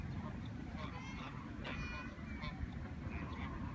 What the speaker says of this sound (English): Tell us a little bit more about the daddy geese over there.